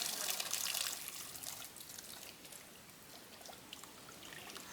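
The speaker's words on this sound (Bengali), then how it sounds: "এখন এটা একটু আগে ধুয়ে নেবো, কলে করে ধুইয়া" Large prawns are rinsed under a running kitchen tap, a soft, close splashing trickle that gushes at first and then settles into a quieter, steady flow with light sputters.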